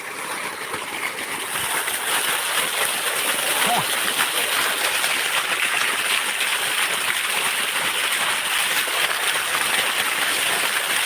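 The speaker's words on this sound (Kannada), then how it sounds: "ನೋಡಿ ಹೇಗೆ ಹೊಡಿತಾ ಇದೆ ನೀರು" Water gushes steadily into a paddy field from a full 2.5-inch pipe, a continuous rushing splash that holds at an even level throughout, with someone talking over it.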